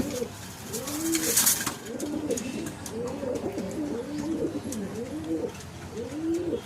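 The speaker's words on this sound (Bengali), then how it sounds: "এবার একটা কালো পায়রা আপনাদের দেখাই, চোখেরই পায়রা, দেখুন" A black pigeon coos again and again at close range, low rolling calls in a steady repeating rhythm over faint background noise.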